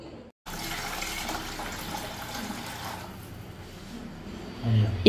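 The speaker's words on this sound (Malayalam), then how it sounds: "ഇപ്പം നമ്മുടെ ആവശ്യത്തിന് വെള്ളം ഒഴിച്ചിട്ടുണ്ട്" Water is poured into a pot of curry cooking on the stove, making a steady, close gushing splash that runs for several seconds and swells briefly near the end.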